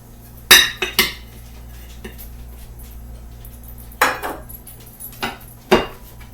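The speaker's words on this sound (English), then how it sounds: "So we're going to go ahead and unmold this one." Metal cake pan clanks and knocks on a hard surface while a baked cake is unmolded: a few sharp clattering hits near the start, then more isolated knocks and taps later, with a low steady hum beneath.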